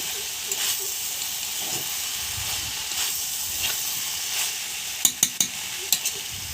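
Chopped tomatoes stir-fried in a pan for a Bengali banana-flower curry, giving a steady close sizzle and hiss, with a few sharp scraping clinks of the spoon near the end.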